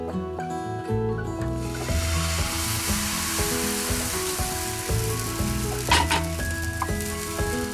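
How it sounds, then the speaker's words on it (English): Pancake batter sizzles steadily in searing hot pans, a continuous close frying hiss with a few brief clinks and scrapes, and no talking. "the pans are searing hot, so I'm totally set for making pancakes."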